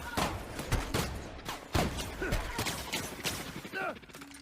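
Shotgun blasts in the video game The Outer Worlds, several loud, irregularly spaced booms mixed with clattering game effects and other combat noise.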